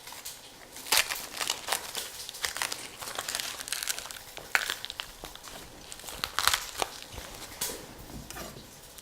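Papery onion skin is peeled off by hand in a kitchen while making chicken stock, a close, continuous crackly crinkling with irregular sharper snaps and no talking.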